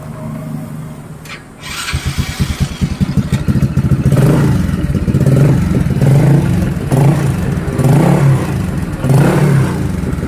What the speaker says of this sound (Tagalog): Yan mararamdaman mo yung mismong vibration ng ating makina